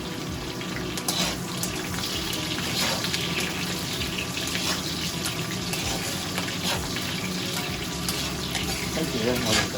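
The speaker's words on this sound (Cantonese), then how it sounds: "佢炸咗有5分鐘啦，再加埋呢個乾葱片落" Ginger and sliced shallots fry in hot oil for a braised lamb brisket pot, giving a dense, steady crackling sizzle close by with scattered sharper pops.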